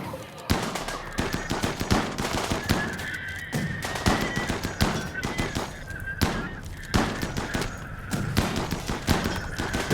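Rapid bursts of gunfire crack through a video game battle, dense volleys and single shots in uneven clusters with a continuous high whine beneath, loud and close.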